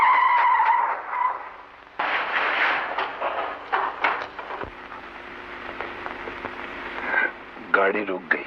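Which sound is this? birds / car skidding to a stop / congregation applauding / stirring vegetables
car skidding to a stop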